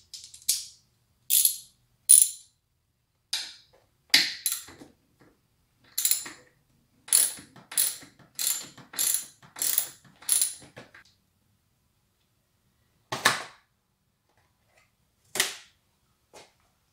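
A ratchet works loose the screws on a motorcycle number plate in sharp, close clicking bursts, about a dozen short runs separated by silent gaps, with a few isolated clicks near the end.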